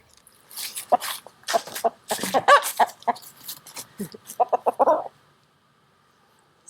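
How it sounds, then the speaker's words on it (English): A Swedish flower hen rooster clucks in a rapid run of short, sharp bursts for about five seconds, close and fairly loud, then falls silent. "he is what's called a Swedish flower hen rooster"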